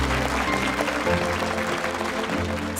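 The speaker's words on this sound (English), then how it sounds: "Let's have a huge round of applause for all the competitors" Dense studio audience applause for the young competitors on a televised children's quiz show, continuous and full throughout the short stretch with background music underneath.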